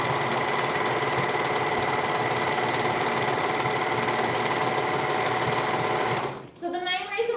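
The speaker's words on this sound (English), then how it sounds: "Overlockers work so well when they go for a service" An overlocker runs steadily for about six seconds while stitching fabric for a tutu, a loud continuous mechanical whir with fast rhythmic chatter, then it stops abruptly and a voice begins speaking.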